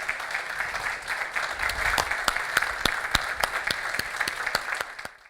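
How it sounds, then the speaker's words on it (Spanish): An audience at an addiction-prevention conference claps for a few seconds, a moderate patter of hands that builds, settles into a few louder claps and then fades out. "Muchas gracias y un aplauso."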